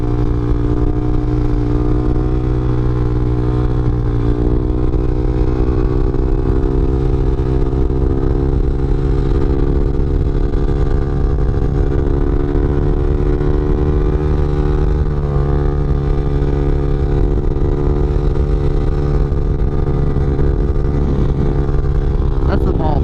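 A 2013 Yamaha TW200 motorcycle ridden along a smooth road near a mall, its engine droning loud and close for the whole stretch with a steady pitch that rises and dips slightly.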